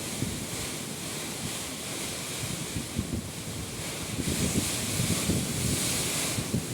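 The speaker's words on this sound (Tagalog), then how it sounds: "Wow, sobrang lakas nito talaga. Hindi nagbibiri itong bagyong ito." Powerful typhoon Kristine winds roar steadily around a house whose roof is being weighed down, a dense, loud broadband rush with surging gusts and heavy microphone buffeting, no voices present.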